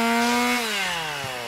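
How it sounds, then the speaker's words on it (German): Petrol chainsaw cutting into a tree in a video game, a loud close whining buzz whose pitch sags as the blade bites into the wood. "Eine Motorsäge und ein Baum."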